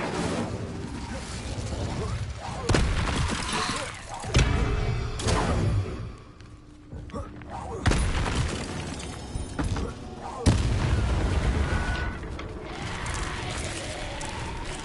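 Repeated bursts of the Incendio fire spell in the video game Hogwarts Legacy: loud whooshing, thudding blasts come every few seconds over a continuous game soundscape.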